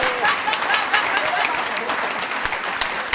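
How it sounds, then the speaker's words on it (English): Students and staff at a school assembly applaud Year 9, with dense, lively clapping, occasional louder individual claps and crowd voices murmuring underneath throughout. "Now I think that deserves a big clap for Year 9."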